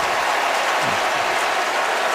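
A stadium crowd roars and cheers at an NFL football game between the Saints and Cardinals, a dense, sustained wash of noise without breaks.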